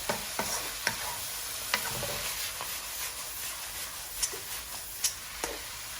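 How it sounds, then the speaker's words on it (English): Sichuan spicy shrimp stir-fried with Chinese cooking wine, a steady sizzle with scattered clicks and scrapes of the spatula against the pan, moderately close with no talking. "Final touch, 2 tablespoons of Hua Diaojiu or Chinese cooking wine. Just stir them up."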